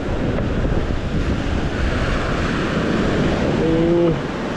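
Strong ocean waves surge and crash in a continuous loud roar of surf, heavily buffeted by wind noise on the microphone, with a brief tonal sound near the end.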